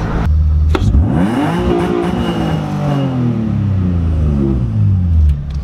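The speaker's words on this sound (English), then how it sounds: "Shit, that already revs fast." A race car engine with a lightweight flywheel revs out quickly, rising sharply and sweeping up before falling and rising again. Loud, close and alone, with no talk.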